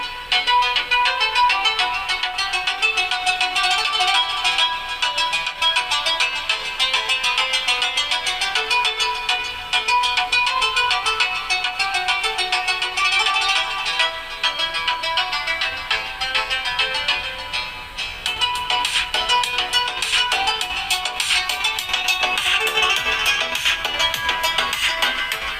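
Music played through a TPA3116 class D mini amplifier on a bench test, a continuous dense, bright mix heard steadily for the whole stretch at moderate level without talk.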